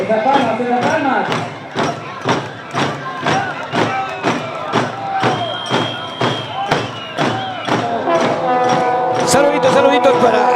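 Rhythmic clapping by a crowd at the Ayacucho carnival parade in Peru, steady even beats about twice a second, close and loud, with festive music and voices mixed in.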